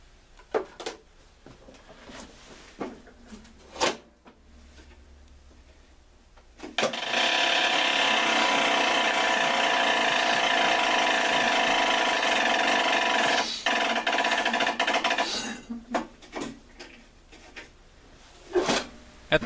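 A starter cranks over a Craftsman mower engine with its spark plugs removed and no compression, giving an even, loud whirring drone that lasts about eight seconds, with scattered clanks and knocks before and after.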